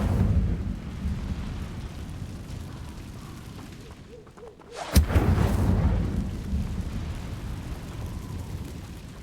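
A magical fire spell goes off in a Hogwarts Legacy fight: a sudden sharp burst followed by a roaring, rumbling whoosh that slowly fades, set against a low, busy combat background.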